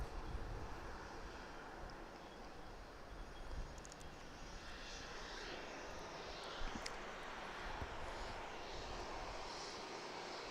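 A Southwest airliner readies for takeoff at Dallas Love Field, its jet engines a steady, distant roar spread across the whole stretch with slight swells.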